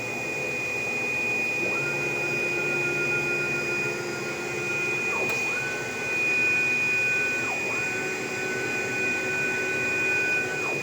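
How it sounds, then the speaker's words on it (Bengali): A template cutting machine runs while marking a garment pattern, giving a steady mechanical whir with a high constant tone and repeated rising and falling motor sweeps as the head travels back and forth. "আমাদের ট্যাম্পলেট কাটিং মেশিন কাজ শুরু করে প্যাটার্নটা মেশিনটা চালু হয়ে গেল"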